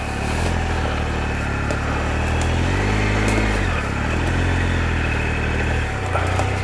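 A big adventure motorcycle rides cross country on an unmarked forest trail, its engine droning loud and steady close by, the revs swelling and easing as the bike works over rough ground.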